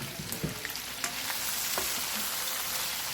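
Chicken frying in a pan for afritada, with tomatoes just added, gives a steady close sizzle and crackle, broken by a few brief stirring scrapes and clicks early on.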